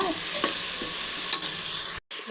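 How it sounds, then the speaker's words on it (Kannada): Vermicelli being stirred and fried in a pan for savige upma makes a steady loud sizzle, with light scraping from the stirring and a brief cut in the sound near the end. "ಹಾಗೆ ನೋಡಿ ನೀಟಾಗಿ ಫ್ರೈ ಮಾಡ್ಕೋಬೇಕು."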